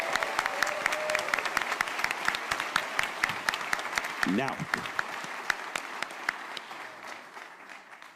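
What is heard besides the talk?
audience applause for the volunteers at a convention panel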